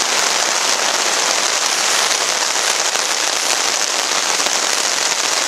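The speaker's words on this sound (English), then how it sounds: "It's pouring out right now." Heavy tropical rain pours in a dense, constant hiss that fills the whole stretch, loud and close, with fine crackling drops throughout.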